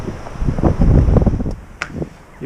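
Wind buffets the microphone while walking outdoors along the Véloscénie route in rural Basse-Normandie, a steady low rumble with gusty swells that ease toward the end, broken by a couple of brief higher clicks.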